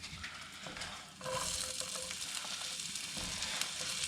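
Chopped onion hits a hot pan and starts a loud, steady sizzle and crackle that continues evenly, preceded by quieter stirring and kitchen sounds, while cooking for a chicken bacon ranch grilled cheese.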